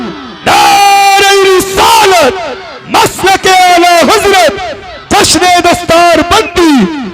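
A large crowd at a religious gathering chants Allahu Akbar in three loud, unison bursts, each a sustained collective shout that swells and fades, separated by short pauses.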